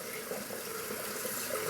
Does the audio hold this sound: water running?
yes